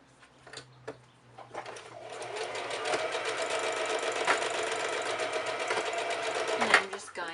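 A sewing machine stitches a cloth mask under the presser foot, a steady, close mechanical whirr that builds after a few short starts and runs continuously before stopping, with faint background voices.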